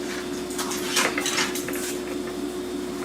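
Metal fork and cutlery clink and scrape against dishes at a table while roast brined and unbrined turkeys are served, a few scattered bright clatters over steady room hum.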